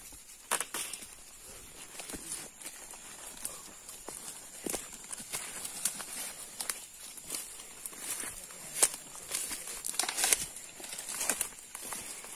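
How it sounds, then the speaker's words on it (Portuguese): A horse walks nearby at a rural fishing spot, its hooves clip-clopping in irregular sharp knocks that come and go against a quiet outdoor background. "Olha o cavalo em cima, aquele cavalo que tem isso aqui."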